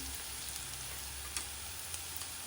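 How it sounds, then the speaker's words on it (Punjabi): Onions fry in a pan for a spicy taro (arbi) curry, making a continuous, fairly soft sizzle with two or three brief crackles or stirring knocks. Nobody talks over it. "ਪਹਿਲਾਂ ਅਸੀਂ ਪਿਆਜ਼ ਅਸੀਂ ਥੋੜੇ ਜਿਹਾ ਭੁੰਨ ਲਏ"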